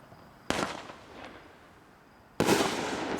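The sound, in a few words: Speed Racer firework going off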